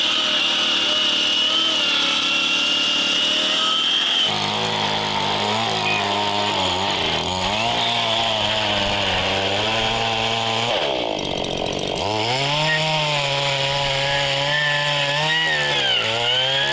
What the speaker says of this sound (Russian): Дисковой пилой неэффективно было такие доски распиливать, это горбыли толстые, пришлось бензопилой поработать.